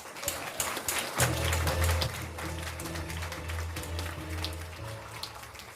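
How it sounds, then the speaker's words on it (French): A theatre audience applauds the magician Gérard Majax at a stage show in Patay: a dense, steady wash of clapping with a brief swell early on, over sustained low music. "On peut l'applaudir bien fort."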